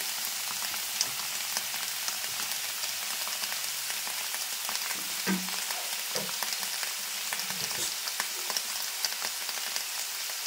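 Ridge gourd, tomato and green chilli fry together in a pan with a soft, continuous crackle, broken by a few scrapes and knocks from stirring, close and moderately quiet, with no one speaking.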